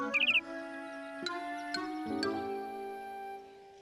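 Cartoon birds after red apples give a quick, bright chirping trill at the start, brief and clear, followed by soft sustained musical tones.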